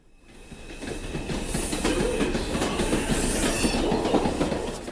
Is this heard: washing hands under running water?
no